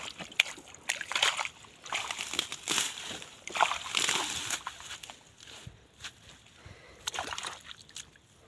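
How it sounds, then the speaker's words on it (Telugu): Water gushes out through a broken bund in a farm field, with close, irregular sloshing and splashing that surges and fades over several seconds. "నీళ్ళు పోతున్నాయి, కట్ట తెగి"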